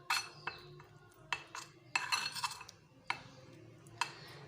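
A spoon clinks against a bowl while orange peel powder and milk are mixed into a face mask paste: a handful of sharp, bright taps spaced irregularly, close and fairly quiet, with no talking.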